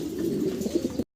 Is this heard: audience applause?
no